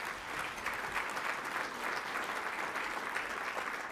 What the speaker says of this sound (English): You can give them a nice round of applause.